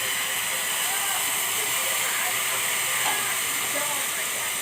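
Tamarind pulp drops into a pan of hot oil tempering, setting off a loud, dense, unbroken hiss and sizzle that holds steady and close throughout.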